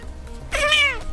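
A pet cat lets out a single clear, drawn-out meow up close, loud and alone against quiet room noise.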